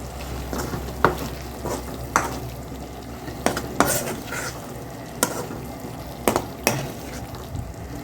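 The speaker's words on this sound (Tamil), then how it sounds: "மேலே போட்டு நல்லா கிளறி விட்டுருங்க" Crushed pepper and cumin being stirred into a dried fish thokku in a pan, with repeated sharp scrapes and clinks of a spoon over a continuous frying sizzle and no voices.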